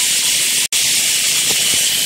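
Garlic and onion sizzle loudly in hot oil in a pan, a constant bright frying hiss with one brief cut-out near the start and a couple of faint pops.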